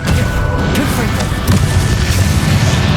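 A Confringo blasting spell explodes in Hogwarts Legacy, a loud, dense wash of booming, crashing impacts that fills the whole stretch without pause, with a deep rumble underneath and sharp cracking bursts on top.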